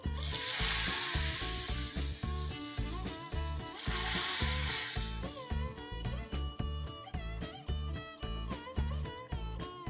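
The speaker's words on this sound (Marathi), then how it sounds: "आणि ही फोडणी मग आपण ह्या डाळीत घालून घेऊया।" A hot tempering of oil, mustard seeds, dried red chillies and curry leaves is poured into Konkani dal. It gives a strong rushing sizzle that settles into rapid, sharp crackles and pops, close and without talk.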